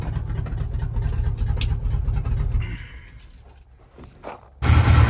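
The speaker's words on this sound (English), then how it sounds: "Sounds like that power steering pump's having a little bit of a tough time" The power steering pump on a 1974 Chevy C20 Custom Deluxe truck strains with a loud, rough droning whine while the engine runs. The sound drops away partway through, then a harsh burst returns at the end.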